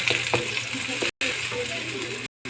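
Chopped onion and garlic fry together in a pan for chicken gizzard and liver pancit canton, giving a steady, close broadband sizzle with faint stirring scrapes and two brief dropouts.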